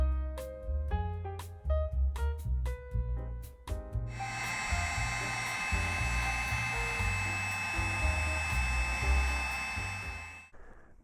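A heat gun blows hot air to shrink heat shrink tubing over laptop wires. Several short clicks and bumps come first, then a loud continuous whooshing hiss that runs steadily and cuts off abruptly near the end.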